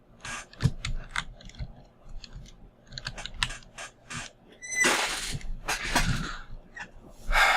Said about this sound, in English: Let's go check out the iron golem grinder.